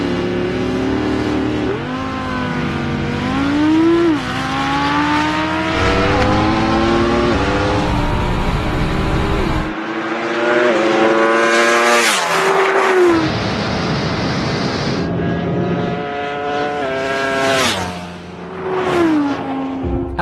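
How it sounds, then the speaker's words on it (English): Audi car and Ducati motorcycle launching hard down a drag track side by side, engines revving loudly with rising pitch sweeps through gear changes, the roar continuous and close for the whole stretch. "The Audi's four-wheel drive system would like to throw itself down the track quicker than the bike"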